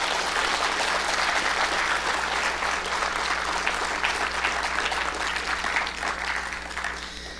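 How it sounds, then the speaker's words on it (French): Audience in a hall applauds Thomas Puget, devil's advocate at a speaking contest. Dense, even clapping runs loud and constant throughout, with a low steady hum beneath, and fades slightly at the end. "Je vous demande d'applaudir notre avocat du diable cette année,"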